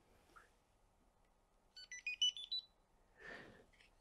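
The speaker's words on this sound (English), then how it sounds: "And besides LEDs, they also have a buzzer" An electronic shelf label's faint buzzer chirps a quick series of five high, warbling beeps in a quiet room, followed by a soft rustle.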